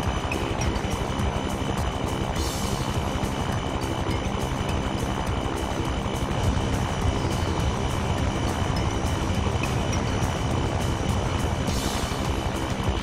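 A steady plane engine drone from the Toy Story 2 video game runs continuously and fairly loud, with no talk over it.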